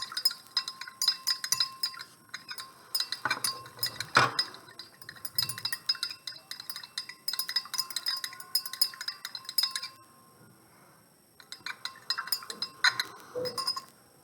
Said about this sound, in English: And use my stirring rod